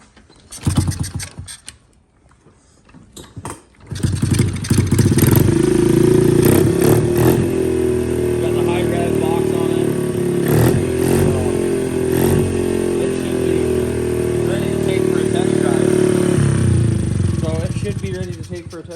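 A Honda XR50 motorcycle with a freshly adjusted carburetor clatters briefly, then starts and runs loud and near, its engine note holding steady with swelling revs.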